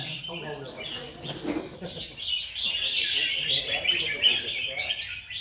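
Red-whiskered bulbuls sing at a songbird contest at Cội in Bình Dương, bright continuous chirps and warbling trills close by, with a voice speaking at the start.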